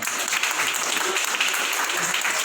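Audience applause at an awards ceremony in Hyderabad, a dense, steady burst of many hands clapping together throughout, fairly close and loud with no voices standing out.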